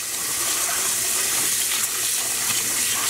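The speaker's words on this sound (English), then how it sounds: "Oh, and want to add cold water." Cold water gushes steadily from a tap into a pre-soak basin for washing dyed yarn, a loud continuous rushing stream with no talking.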